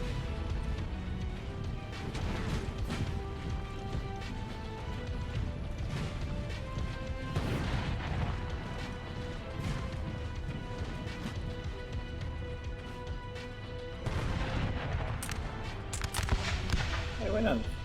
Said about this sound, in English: We've got the French artillery pounding this position.